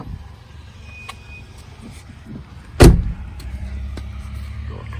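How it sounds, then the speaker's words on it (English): A Mercedes GLE 350 door is worked on: a short whir of the power window, then a sharp mechanical clunk as the door opens, followed by a low, steady background hum close by. "Window, door opens."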